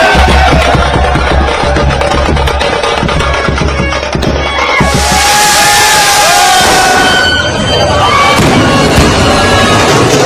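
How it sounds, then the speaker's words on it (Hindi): A street celebration at night after a cricket win, with a loud crowd cheering and shouting over bursts of crackling firecrackers, the noise swelling midway and staying dense and close throughout. "रात में सड़कों पर पटाखे और नाच गाना"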